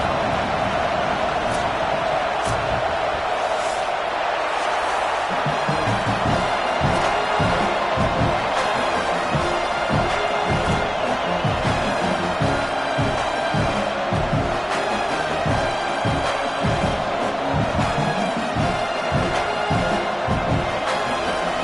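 A home stadium crowd in a College Football video game, Tigers against Auburn, roars in a dense, sustained wall of cheering that stays loud throughout, with a rhythmic thumping pulse joining in partway.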